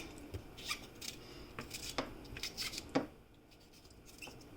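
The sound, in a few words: cutting seasoning over chicken meat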